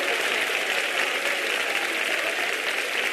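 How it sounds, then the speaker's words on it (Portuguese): A church congregation in Mexico City claps together in loud, dense, unbroken applause that fills the whole moment. "Uma salva de palmas para o Senhor."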